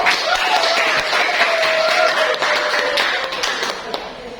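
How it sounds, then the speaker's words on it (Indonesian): Applause from a classroom of students, dense overlapping claps filling the whole stretch at steady loudness, fading slightly toward the end. "beri aplaus untuk kita semua"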